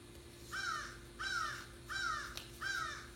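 A crow caws four times in an even rhythm, each harsh call about two-thirds of a second apart, moderately near over a low steady background hum, with no talking.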